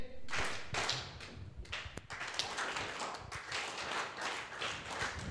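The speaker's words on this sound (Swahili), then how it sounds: "Makofi kwa hii team 2025" A live audience claps for a newly expanded five-person team at an AI animal husbandry carnival in Kenya, with dense applause sustained throughout and a sharp clap standing out near the middle.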